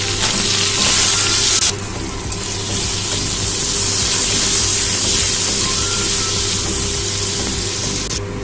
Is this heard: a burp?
no